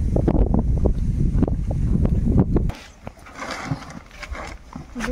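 Light wind blows before rain in the Sundarbans, buffeting the microphone with loud rumbling gusts for the first few seconds, then easing to a softer, unsteady whoosh.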